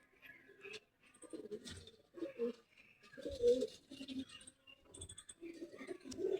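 Pigeons coo in soft, repeated low throaty calls that come in separate bursts at close range, with light clicks and rustles between them.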